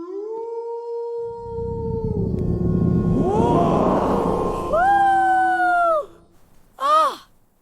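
A farm dog howls in a long, wavering cry that rises and falls, followed by a brief higher yelp at the end; loud and close with no talking.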